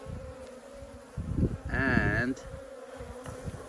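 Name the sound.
bees in an opened small beehive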